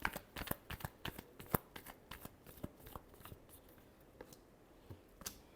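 Tarot cards are shuffled by hand in a last round of quick, crisp riffling taps and flicks, close and fairly quiet, with uneven rhythm and short gaps.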